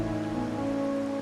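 Steady rain in the video game Wuthering Waves, a continuous soft wash of drops with a low tonal hum of game ambience beneath, even and unbroken throughout.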